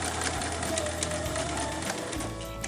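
A sewing machine stitches pleated fabric for a face mask with a close, steady rapid whirring hum throughout.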